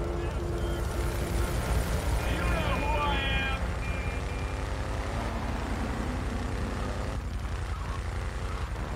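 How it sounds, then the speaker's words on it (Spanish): Helicopter in GTA III flying off, a dense continuous rotor-and-engine drone that holds steady and slowly thins, with game effects and a brief chirp mid-way; someone talks over it. "Ah, se va en el helicóptero."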